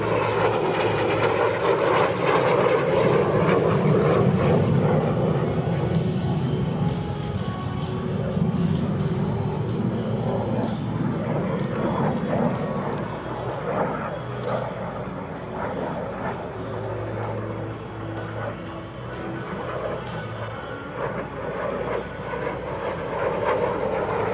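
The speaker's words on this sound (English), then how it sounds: "Shooting Star, America's first operational jet fighter and trainer" A T-33 Shooting Star jet, America's first operational jet fighter and trainer, roars steadily at an airshow, a loud sustained engine drone with a low hum, continuous throughout without breaks.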